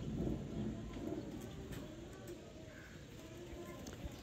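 Sialkoti pigeons kept for sale coo in soft, repeated low calls, with faint chirps and someone speaking over them.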